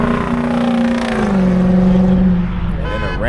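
A 500 hp Lexus RC F sports car engine revs loudly and close by, its droning pitch dropping partway through, before a voice briefly starts talking.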